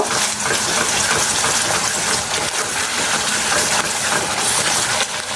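Ginger-garlic paste sizzling in a pan with onions, a loud, steady broadband frying hiss that holds without a break, close and continuous with no talking.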